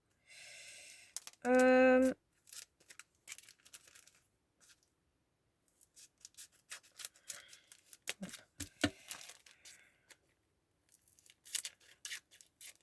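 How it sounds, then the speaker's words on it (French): Scissors snip through paper in a quiet room: scattered short, crisp cuts and light rustles come in irregular bursts, with a brief tonal sound near the start. "on va déjà utiliser mon ciseau"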